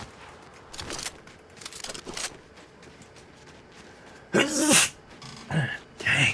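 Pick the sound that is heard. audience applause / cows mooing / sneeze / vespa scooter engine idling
sneeze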